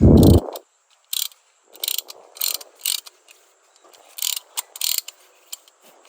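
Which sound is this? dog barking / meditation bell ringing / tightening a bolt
tightening a bolt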